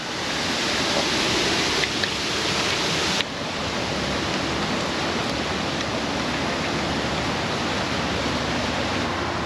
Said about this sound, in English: It's so windy I don't think you'd be able to hear the raccoons or me.